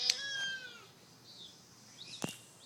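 A cat meows close by, one drawn-out wavering call followed by a shorter, sharper meow about two seconds later, with a quiet background between.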